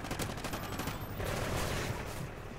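Bombing and gunfire in the multiplayer shooter game Call of Duty Ghosts: a dense, continuous barrage of rapid blasts and shots that stays loud throughout the short stretch.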